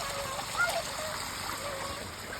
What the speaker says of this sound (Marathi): ह्या आंब्याला आळा केला, कसं पाणी चाललंय